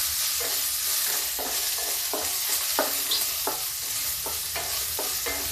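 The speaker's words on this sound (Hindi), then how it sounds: "थोड़ा प्याज भूनेंगे।" Onions and ginger frying in a pan for red masoor dal tadka, a continuous close sizzle broken by regular scraping strokes of a spoon roughly every half second, with no voices.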